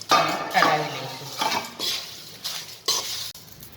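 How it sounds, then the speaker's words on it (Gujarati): Poha and crushed papad being stirred in a metal pan for a namkeen snack, a series of clinking, scraping strokes against the pan with a little soft sizzle. "આપણે જે પૌવા અને પાપડનો ચૂરો કર્યો છે એ હવે અંદર આપણે નાખી દઈશું અને હલાવી લઈશું।"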